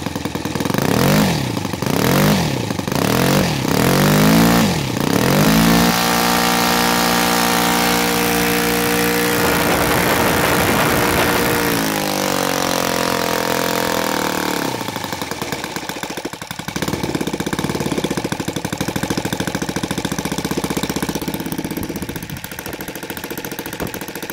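A small engine with CDI ignition sputters and revs unevenly at first, then settles into a steady idle around 1400-1500 rpm, its low putter continuing close by with brief changes in pitch.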